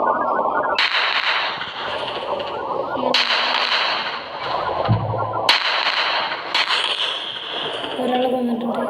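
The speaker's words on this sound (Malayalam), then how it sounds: "അപ്പം നമുക്ക് ഇവിടെ വെടിവെച്ച് കൊല്ലാം" Gunfire in a shooting video game, with several sharp broadband bursts spaced a few seconds apart over continuous game sound and background audio, fairly loud throughout.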